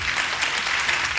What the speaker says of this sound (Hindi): आप लोगों की एकदम से वापस से तालियों की आवाज आनी चाहिए